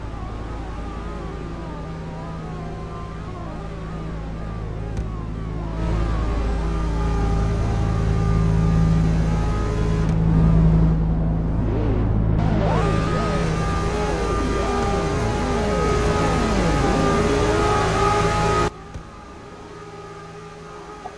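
GT3 race cars in a sim racing game idle and rev on the grid at the Mexican Grand Prix, a steady layered engine drone with rising and falling revs continuing throughout.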